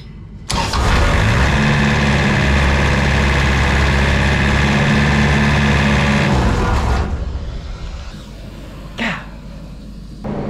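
An engine cranks hard and loud for about six seconds, the starter whirring steadily without catching, then stops, leaving quiet handling sounds.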